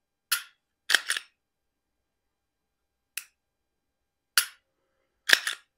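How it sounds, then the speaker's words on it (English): A Glock 43x pistol gives five sharp, dry trigger-reset clicks at uneven intervals, some of them doubled. The clicks are close and crisp against silence. "Show you the trigger reset."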